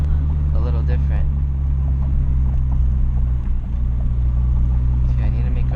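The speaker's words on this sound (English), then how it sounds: "I wonder if it sounds different from the outside with the super stiff engine mount" A loud, deep engine drone fills the cabin of a 2012 Honda Fit with a super stiff aftermarket engine mount, heavy low vibration, steady and unbroken, with faint rattles on top.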